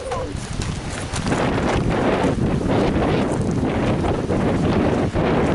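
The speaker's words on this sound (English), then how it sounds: "It's a bit windy and I hope you can hear everything" Steady wind roars and buffets the microphone outdoors on the Hags Glen walk, a loud continuous rush with no pauses.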